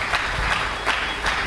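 Congregation applauding during a church sermon, a steady wash of many hands clapping in a broad, continuous roar with slight surges, no speech over it.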